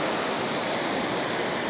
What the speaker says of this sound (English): Check out this waterfall.